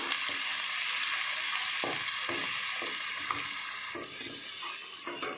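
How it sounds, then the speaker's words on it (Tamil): Ginger garlic paste fries in oil in a pan for madurai kari dosa, a steady close sizzle with several soft scraping stirs spaced through it and no speech. "இஞ்சி பூண்டு வந்து நல்லா வதங்கணும். இஞ்சி பூண்டோட பச்சை வாசனைலாம் போய் நல்லா வதங்கணுங்க"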